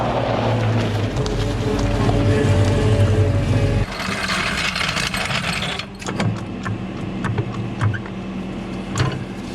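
A Cat 272D3 skid steer engine rumbles loudly nearby as the machine drives into a shop, then drops to a lower idle with clanks and knocks, under wind buffeting on the microphone.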